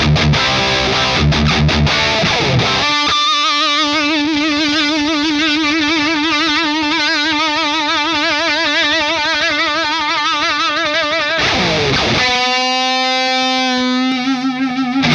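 Heavily distorted electric guitar through a boosted, modded VOX AC30 tube amp, holding long, sustained notes with wavering vibrato, loud and saturated, ending with a brief break and a fresh chord.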